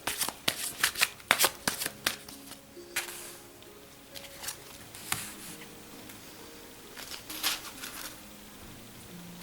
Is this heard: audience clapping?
no